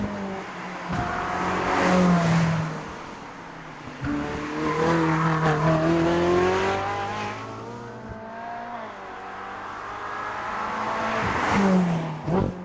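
A Ferrari 458 Spider convertible's engine revs in repeated rising and falling sweeps, loud and steady throughout with a strong tonal growl and no talking.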